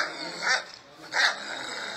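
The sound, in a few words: dog barking and growling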